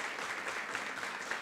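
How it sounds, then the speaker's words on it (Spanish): A brief burst of audience applause at a clinic inauguration ceremony, a continuous crackle of many hands clapping in a large space, heard alone without speech. "Quiero pedirle un aplauso muy grande por sus años de servicio."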